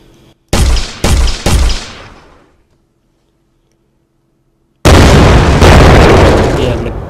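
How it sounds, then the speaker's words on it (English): Explosions from an exploding barrel with knockback in a game engine: three sharp booms in quick succession fading out, then silence, then a longer, louder blast that rumbles and decays. "We have a barrel that does knock back explosion with sound."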